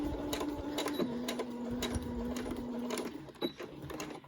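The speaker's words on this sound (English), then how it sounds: "we're going to be back stitching when we get there." A sewing machine back stitches the edge of a simple fabric face mask, giving a steady whirring hum for about three seconds. It then stops, and a few light clicks and handling noises follow, close up.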